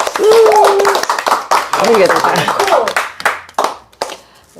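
A group of people claps hands in a burst of applause that gradually thins out, with voices talking and exclaiming over it.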